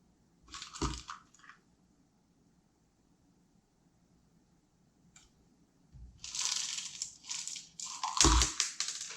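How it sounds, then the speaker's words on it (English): Clay hydroponic beads spilling and tumbling around a citrus tree's container, bursts of crunchy, rattling clatter, one early and a longer scattered run near the end, close by. "Oh no, we're dropping beads."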